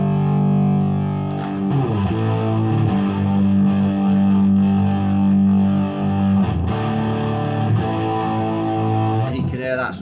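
Laney A0312 1x12 tube guitar combo amp in boost mode with both gains full up, sustained heavily distorted guitar chords ringing out loud and close, with a few sharp attacks and a noisy squeal near the end.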